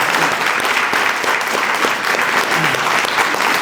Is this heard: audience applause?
yes